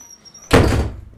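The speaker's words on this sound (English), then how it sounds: "Slamming doors." A single loud door slam in a house, a sudden thunk followed by a short rumbling decay, close by with no talking.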